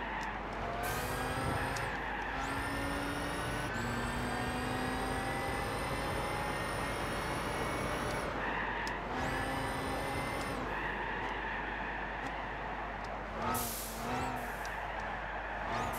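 Bugatti Veyron engine in the Gran Turismo 6 racing game, a high, whining tone rising and falling through gear shifts with sharp upward sweeps, loud and continuous with no talk.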